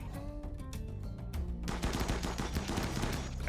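Bursts of assault rifle fire from a RimWorld battle, rapid overlapping volleys crackling loud and continuous, sparser shots at first then a dense sustained barrage with no voices.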